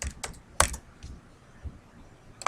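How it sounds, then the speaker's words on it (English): Keys clack on a computer keyboard, a few quick close presses with one louder strike, followed by quiet and a final click. "I'm going to hold down the shift key and hit enter."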